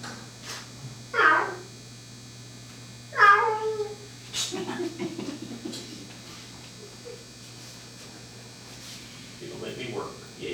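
A cat held up against a person's shoulder gives a few clear meows, with soft low sound between them that may be purring, while people talk nearby.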